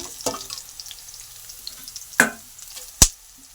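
Onion, peanuts, mustard seeds and green chili fry in hot oil with a soft continuous sizzle, punctuated by three sharp close spatula clacks against the pan.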